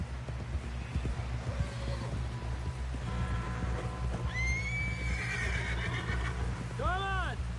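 A horse in Red Dead Redemption 2 gives a loud rising whinny followed by a shorter neigh, with clip-clopping hooves earlier and a steady low hum throughout; someone speaks over the start.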